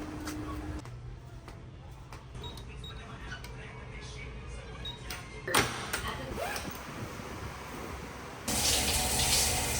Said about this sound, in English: I'm gonna take a quick shower here at the local truck stop